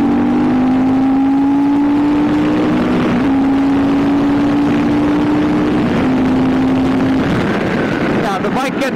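A Fantic Caballero Rally motorcycle engine holds a steady drone while riding at speed, with wind rushing across the microphone and a voice talking over it.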